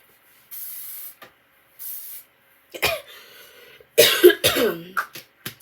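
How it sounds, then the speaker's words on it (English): Hairspray hisses onto hair in two short, even bursts, followed by coughing and throat-clearing nearby. "So I honestly usually just use the hairspray."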